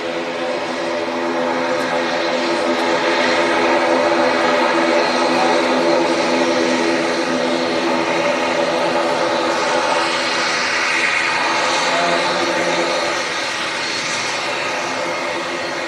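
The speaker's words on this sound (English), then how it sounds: "Nice loud ATR 72 there, taxiing past." A loud ATR 72 turboprop engine drones steadily nearby as it taxis past at Manchester Airport, with a rich, tonal hum, swelling slightly as it passes and easing off toward the end.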